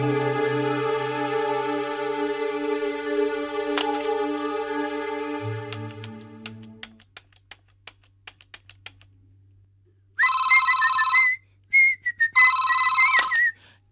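A telephone call being placed in a Tamil TV serial: a sustained electronic tone and scattered clicks like keypresses, then two distinct ringing bursts with a short gap between them.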